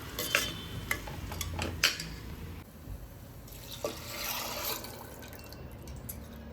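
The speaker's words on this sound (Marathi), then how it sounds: "आता पाणी घालूया." Water is poured into a pan of sautéed rice and moong dal. It splashes and trickles near the mic with a few clinks of utensils, moderately quiet, and no one speaks.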